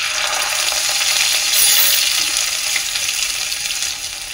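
Ginger paste dropped into hot oil with black cumin and asafoetida for a yogurt chilli pickle, giving a continuous loud sizzle that swells briefly midway, with no talking.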